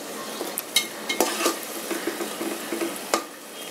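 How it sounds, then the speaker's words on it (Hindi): Spice masala frying in plenty of oil for chicken biryani over a medium flame, a steady sizzle broken by several sharp clinks and scrapes of a spoon stirring the pan, no voices. "थोड़ा सा ये भून जाए 2 मिनट, उसके बाद हम लोग इसमें ऐड करेंगे चिकन"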